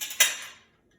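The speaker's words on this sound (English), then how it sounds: "taking the cutlery and scraping the food off, placing the cutlery below" Cutlery scrapes food off a plate while plates are cleared from a dining table: a short metallic scrape with a sharp clink at the start, fading out within about half a second, heard alone.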